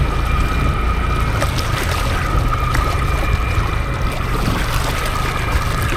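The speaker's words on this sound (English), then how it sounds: "I love the waves breaking over the" Waves washing against the shore of a lake, a loud, steady churning and splashing wash that runs unbroken and close, with no talking.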